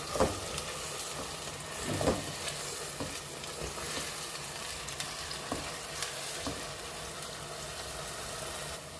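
Finely chopped green chillies and ground masala paste sizzle and fry in oil for an Andhra-style crab curry, a steady crackle with a few louder stirring clinks, close and without talk.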